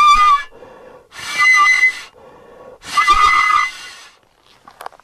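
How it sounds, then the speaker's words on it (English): A tube percussion instrument blown across its open end gives three loud whistling bursts with a breathy, harmonic tone and short pauses between them, heard alone. "if you just put your mouth half on it and blow, makes a great whistling sound"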